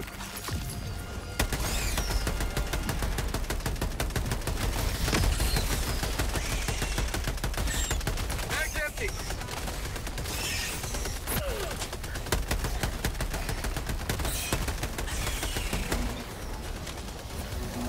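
A sentry gun in the video game Helldivers 2 fires nonstop in a dense, rapid stream of shots that holds at a loud, even level for the whole stretch, with no voices.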